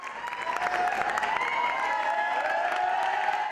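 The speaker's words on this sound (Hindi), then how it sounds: "शुरा ने तालियां बजाकर ड्रामा टीम की मेहनत को खूब सराहा।" An audience in a college hall claps steadily after a drama performance, a dense patter of many hands filling the hall, sustained throughout without speech.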